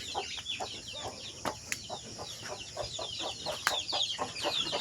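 Chicks on a farm cheep in a continuous stream of high, rapid peeps, with occasional sharper clucks from nearby fowl, moderately close and with no talking.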